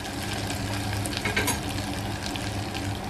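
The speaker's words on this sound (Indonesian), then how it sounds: "Kita tumis sampai harum ya, tapi jangan sampai gosong." Onions sautéing in olive oil and butter, a dense, even sizzle with light stirring scrapes and a brief swell of crackling midway, close and continuous without speech.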